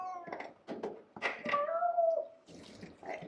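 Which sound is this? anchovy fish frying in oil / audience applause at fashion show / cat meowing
cat meowing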